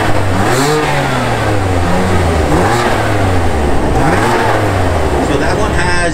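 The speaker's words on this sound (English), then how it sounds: "VRS downpipe, AWE switchback, non-resonated." A BMW with a VRS downpipe and AWE switchback exhaust, valves closed and non-resonated, revs repeatedly at a car meet in Melbourne, with rising and falling engine sweeps close by and voices in the background.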